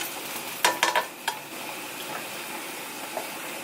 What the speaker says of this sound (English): I already drained the meat, so all I'm going to do is put it in there.